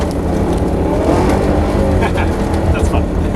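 Rear-wheel-drive car drifting on a rally-style course, the engine revving loudly and steadily under throttle with tyre noise close by, and people talking over it.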